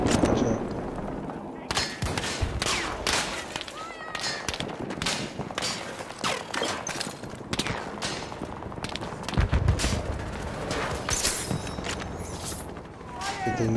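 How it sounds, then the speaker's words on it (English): Video game gunfire crackles throughout: dense bursts and single shots, some near and sharp, others farther off, mixed with voices talking over the noisy battle. "They're shooting."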